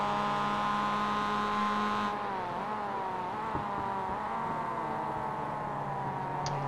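Race car engines in a racing video game run at Summit Point, a steady whining drone with harmonic tones shifting in pitch as the cars accelerate and lift, continuous and fairly loud with no talk.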